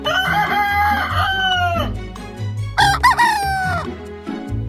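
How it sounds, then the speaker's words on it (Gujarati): A chicken gives two loud, drawn-out calls close by, in a crowing style with a short gap between them, and no other sound around it. "આ પક્ષીને મરઘી કહેવાય અને મરઘીને અંગ્રેજીમાં હેન કહેવાય."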